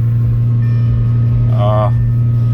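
Constant low engine rumble of an idling Lamborghini just after starting, loud and steady, with a brief voice-like sound in the middle.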